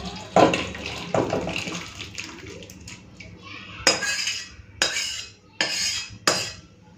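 Cooked shrimp and kohlrabi curry pours and slides out of a pan with wet sloshing and a run of sharp metal scrapes and clanks from a utensil, close by, and a voice is briefly heard underneath.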